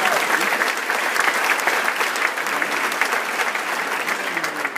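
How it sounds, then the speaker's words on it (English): A full room at a school back-to-school night gives the staff a round of applause: dense, steady clapping from many people, loud and continuous with a faint murmur of voices underneath. "So let's give them one other round of applause"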